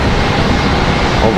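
An American Airlines plane arriving at Charlotte Douglas airport from Toronto, a steady broadband engine roar with no breaks across the short stretch.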